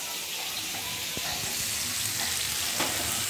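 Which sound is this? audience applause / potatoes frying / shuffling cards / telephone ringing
potatoes frying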